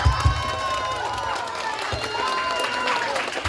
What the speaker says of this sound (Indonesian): Tepuk tangan buat panitia dan Bapak DKM